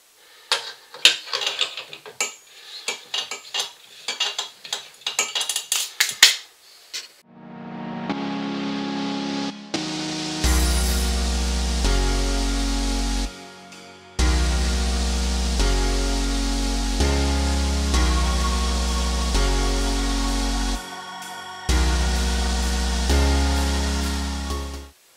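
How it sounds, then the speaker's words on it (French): A grain mill grinds corn into finer flour, first with rattling mechanical clicks as kernels go in, then a loud steady grinding roar in long runs broken by short pauses, all close and without voices. "Je vais moudre encore un peu plus."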